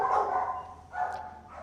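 Several dogs barking in a humane society shelter kennel area, including larger dogs such as Labradors and Pit Bull mixes, two bursts of loud, echoing barks close by in a reverberant room.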